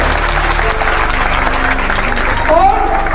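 An audience at a Shivaratri poetry recital claps in a sustained burst of applause, with a voice speaking over the clapping.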